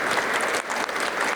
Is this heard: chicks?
no